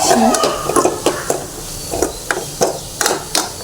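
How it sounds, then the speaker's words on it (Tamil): Onions for an egg stir-fry get stirred and sautéed in a pan, a low sizzle broken by repeated sharp scrapes and taps of a spoon against the metal, close and loud with no talk. "நல்லா கிண்டி வதக்கி வெங்காயம் ஓரளவுக்கு நல்லா வதங்கிச்சு"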